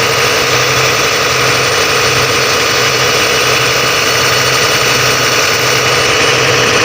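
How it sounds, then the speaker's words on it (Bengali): A boat engine drones loudly and without a break while crossing the middle of a river, a dense vibrating roar that fills the whole stretch with no other sound above it. "এখানে যেহেতু ইঞ্জিন চলছে সেখানে প্রচণ্ড আওয়াজ হচ্ছে দেখুন"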